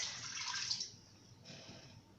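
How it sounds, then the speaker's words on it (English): One cup of water poured into an Instant Pot's inner pot: a soft, quiet splashing rush for about a second that fades into faint trickling, ending with a small clunk. "we are going to put 1 cup of water into the pot."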